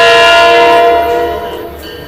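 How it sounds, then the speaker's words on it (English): A Metro-North P32 locomotive sounds its horn, a loud sustained multi-tone chord that holds steady, then slowly fades as the train heads for Grand Central past Cold Spring station. "Here comes another P32 train to Grand Central."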